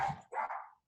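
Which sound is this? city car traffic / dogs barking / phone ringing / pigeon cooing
dogs barking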